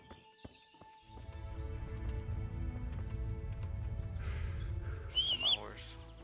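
Horse hooves clip-clop at a steady rhythm while riding in Kingdom Come: Deliverance, close and continuous, with birdsong chirping briefly near the end.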